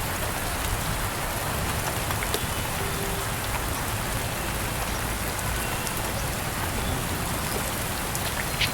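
Steady, dense rain pours down continuously in a jungle, a loud even hiss of drops hitting leaves and ground with no voices.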